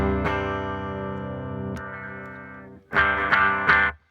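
A clean electric guitar tone runs through a Snarling Dogs Bootzilla fuzz wah pedal: one chord rings and slowly decays, a second strum lands midway, then a brighter flurry of quick chords closes, played alone.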